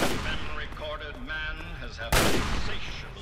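Gunfire inside a planetarium in the video game Fallout 3, sharp close shots bursting over a busy, reverberant game soundscape, with a loud blast near the end and some talk mixed in.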